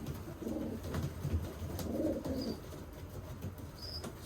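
Racing pigeon giving soft, low coos in a quiet setting, a few short murmuring phrases close by, with a faint chirp or two in the background.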